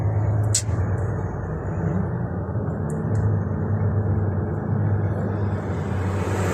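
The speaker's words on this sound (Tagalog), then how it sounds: "Napaka-traffic guys, ang haba nito." Dense, heavy road traffic at the Al Khabir road corner in Taif, Saudi Arabia, a steady loud engine rumble with idling and passing vehicles, and a short high squeal early on.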